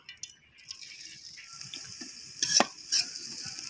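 Chopped onions sizzle in hot soybean oil in a pan, a soft crackling hiss with light stirring scrapes and a couple of louder spatters partway through, without voices.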